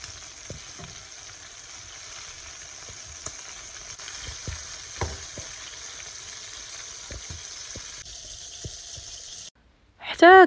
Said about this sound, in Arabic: هنا كنرمي هذا الشامبينيون بوحدو زعما يتقلى مع الزيت والبصله والزبده